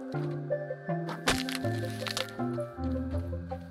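A sharp, loud crack from chopping an object in the video game Grounded cuts through steady game music, followed by softer squishy hits.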